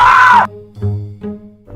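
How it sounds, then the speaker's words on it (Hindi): A cartoon character lets out a loud, short, high scream, followed by a few low, sustained, droning tones. "फिर से किसी के चीखने की आवाज़ आती है"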